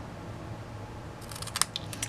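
Scissors snip through a piece of gold cardstock for Christmas card making, a few quick, crisp cuts close by near the end after quiet room tone.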